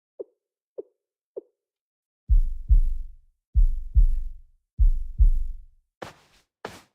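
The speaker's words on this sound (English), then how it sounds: "That's the sound of a young girl's heart." Heartbeat of a young girl: a few faint ticks, then deep, thudding double beats in a steady rhythm, close and bassy, ending with softer clicks.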